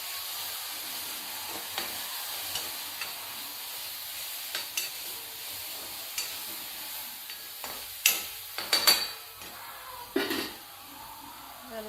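Fenugreek leaf vegetable being sautéed in a pan with ground coriander, a soft steady sizzle with scattered clicks and scrapes of stirring that grow louder toward the end.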